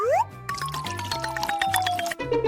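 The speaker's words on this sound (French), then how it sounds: "Alors, je vais ajouter de l'eau." Water is poured out for a tree, opening with a short rising gurgle as it fills, followed by bubbly, watery effects against a light tonal backdrop, close and clear with no speech.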